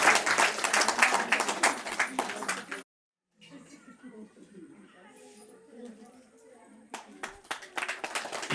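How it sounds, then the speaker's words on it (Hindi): An audience claps at a school farewell ceremony in India, a loud burst of many hands for about three seconds that stops abruptly. After a brief silence, a speaker talks and scattered claps return near the end. "तालियां तो थोड़ा सा बजते रहना चाहिए"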